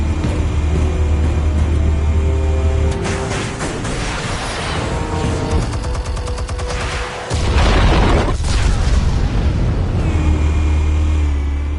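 Heavy explosive blasts and rumbling booms from Batman: The Telltale Series, loud and sustained across the scene with a deep low-end roar and a brief dip before another surge.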